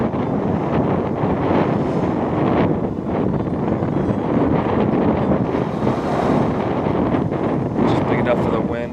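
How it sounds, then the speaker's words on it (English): Strong wind roars and gusts along the Cliffs of Moher, forced through a rock crack as waves crash below, a continuous loud rushing with low rumbling surf and mic buffeting. "Just big enough for the wind to get forced up in there as the waves crash in."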